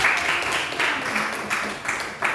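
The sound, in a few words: audience applause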